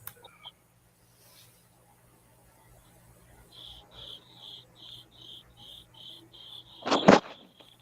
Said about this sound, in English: that would be the crickets